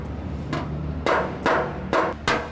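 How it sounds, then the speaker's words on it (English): A panel-beating hammer strikes a car body panel backed by a dolly: four firm, evenly spaced metallic blows, close and fairly loud, over a low background hum. "when you're hitting the dolly, you'll hear the sound of the dolly underneath."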